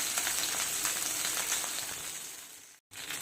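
Curry leaves and green chillies splutter in hot oil, a dense, loud crackling sizzle with scattered pops that cuts out briefly near the end before resuming.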